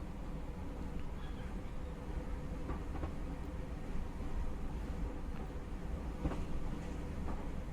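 A Class 319 electric train in Train Simulator Classic, running between Bedford and Brighton at about 100 mph, gives a continuous low rumble with faint rail clicks, and another 319 passes alongside.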